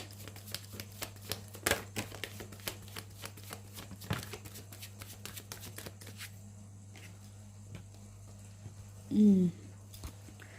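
Angel oracle cards shuffled by hand, giving a steady run of soft papery riffles and taps that sit over a low constant hum, and then stop, with one short vocal sound near the end.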